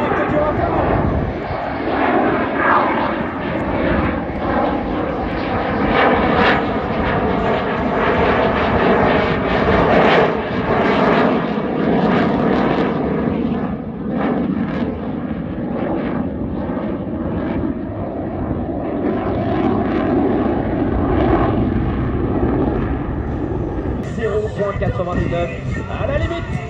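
A Dassault Rafale fighter jet makes a flypast at an airshow, its roar loud and sustained throughout with a broad rushing rumble, while an announcer talks over it.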